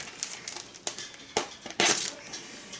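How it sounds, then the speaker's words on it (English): Laminate film is cut at the corner of an RC flying wing near the elevon, with crisp crackles of plastic film and a run of sharp clicks and snips up close. "I'm going to cut the laminate right here, roughly."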